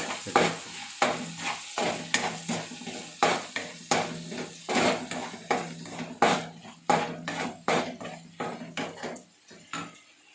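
Curry leaves sizzling in hot oil for a spicy fish curry, with a spoon repeatedly scraping and stirring the pan in uneven strokes over a soft frying hiss, close and clear without talk.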